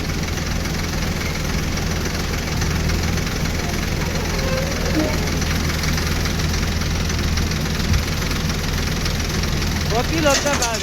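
A JCB excavator engine rumbles steadily while loading sand into a truck in a riverbed, with a low, constant drone and brief faint voices near the end.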